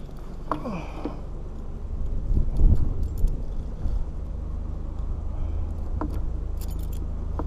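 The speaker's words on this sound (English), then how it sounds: "What am I going to do with my keys?" Keys jangle in several light metallic rattles while someone handles a trailer security chain and lock outdoors, with steady wind noise and a low background rumble throughout.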